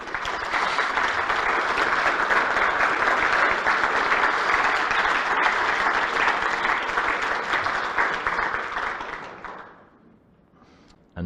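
A meeting audience at a genealogy society's annual general meeting gives a subcommittee a long round of dense applause, loud and steady for about nine seconds before dying away.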